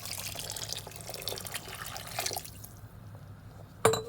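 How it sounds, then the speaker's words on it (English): Water running and splashing into a pot of Moroccan harira soup with lentils, a steady close pour for a few seconds that cuts off, followed by a brief sharp clink near the end. "Now we add in the water."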